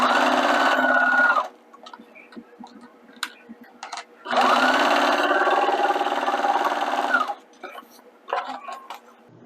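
A domestic sewing machine stitches through clear plastic in two bursts of rapid, even whirring, the second one longer, with short quiet pauses and small clicks in between.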